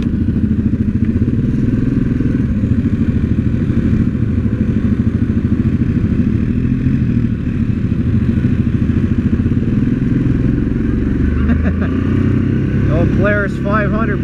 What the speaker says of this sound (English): Old Polaris 500 putting in work.